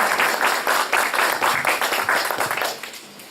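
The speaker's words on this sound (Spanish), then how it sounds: "Cross, nuevamente director de RZIM Latam, para quien le pido un fuerte aplauso." An audience applauds a speaker being welcomed at an RZIM Latam event, with steady, dense clapping from a crowd that fades slightly at the end.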